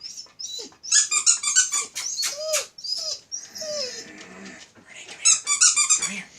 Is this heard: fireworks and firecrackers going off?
no